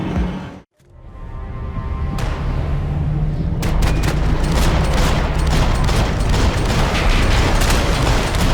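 Dense gunfire and overlapping shots in the video game Max Payne 3, loud and sustained after a brief silent gap and buildup, continuing as a near, heavy fusillade.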